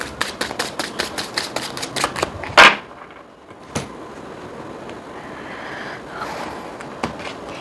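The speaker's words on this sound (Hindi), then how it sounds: "कभी कभी जो है कार्ड्स शफल करना होता है या निकलने में थोड़ा सा टाइम लगता है" Tarot cards are shuffled and drawn: a quick, even run of close, sharp card flicks for about two seconds ends in a louder slap, then a quiet stretch with a few soft handling clicks.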